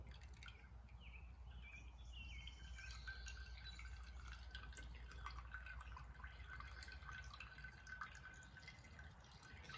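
Liquid drips and trickles steadily from a lifted grain bag into a container while brewing beer, with quiet irregular plinks over a soft background hum.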